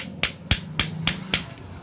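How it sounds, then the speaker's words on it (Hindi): A hammer strikes the bearing of an RO booster pump in five sharp, evenly paced metallic blows, close and clear over a faint background hum, with no talking. "ये एक हथौड़ा लेंगे और इस पर ऐसे चोट मारेंगे"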